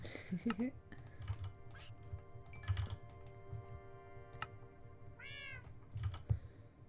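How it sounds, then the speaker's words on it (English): Several in-game cats meow together in a video game, a short rising meow chorus over quiet computer keyboard typing, with a person talking. "All of my cats just meowed in unison, and that was so loud."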